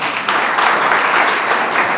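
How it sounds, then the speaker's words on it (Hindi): Audience applause fills a panel discussion hall, a dense and steady wash of many hands clapping at a fairly loud level throughout, with no speech over it. "तो अपने लिए तालियां बजा लो"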